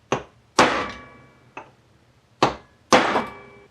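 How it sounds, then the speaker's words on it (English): Five sharp hammer blows on broken bolts, unevenly spaced, the louder strikes ringing with a metallic tone that decays over a fraction of a second; close and loud with no talk. "Good whack with the hammer"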